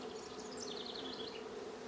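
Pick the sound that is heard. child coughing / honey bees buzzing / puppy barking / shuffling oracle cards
honey bees buzzing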